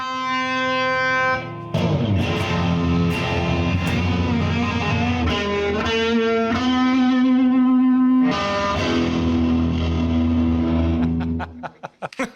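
Loud distorted electric guitar riffing with sustained chords and quick runs, ending in a brief fading scrape; no talking.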